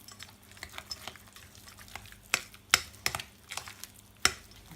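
Brazil nuts, salt and pepper stirred through a cannelloni filling, with soft scraping and a few sharp clicks of a utensil against the bowl, close and unhurried, without talking.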